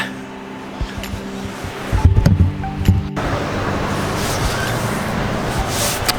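Sea waves wash onto a beach near Bournemouth, heard as a steady broad rushing surf that swells and fills the space, with a brief low engine-like rumble and knocks before it.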